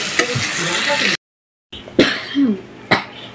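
Onions coated in turmeric and chili fry in a pan with a broad, hissing sizzle that cuts out briefly, then returns alongside stirring clatter and a couple of nearby coughs.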